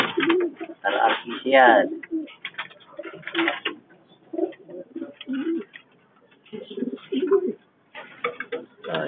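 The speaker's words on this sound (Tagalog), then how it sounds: "Yan, magulang ng mga ibong ko yan." Racing pigeons coo softly in a loft, their low murmuring calls scattered beneath someone speaking nearby throughout.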